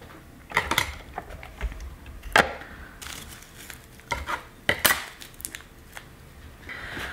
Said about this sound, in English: the first thing you want to do is grind your herb. And here we have our little grinder.